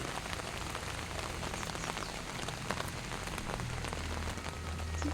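Continuous rain falling on surfaces in a flower garden in Coimbatore, a steady close patter of drops with no voices.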